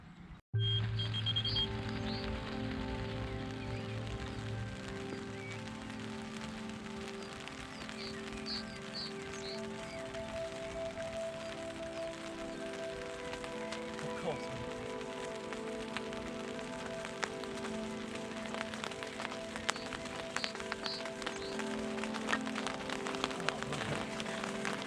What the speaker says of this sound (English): it's starting to rain, so I'm glad I got the bivvy up